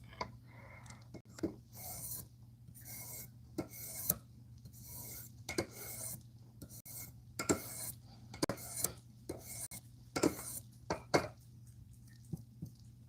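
A knife blade is sharpened on a 3000 grit whetstone, giving repeated rasping strokes in an uneven rhythm. The strokes are close and moderately loud over a low steady hum.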